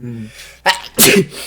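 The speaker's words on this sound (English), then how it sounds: "I'm gonna sneeze." A single loud, close sneeze bursts out after a brief hum and a sharp inhale, recorded on a podcast set.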